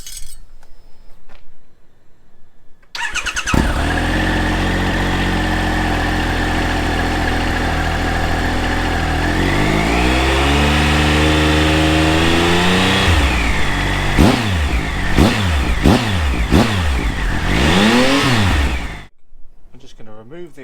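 A Triumph Tiger 1200 XCA motorcycle engine with its exhaust baffle removed roars loud and raw, idling rough before a series of sharp revs climb and fall, ending abruptly.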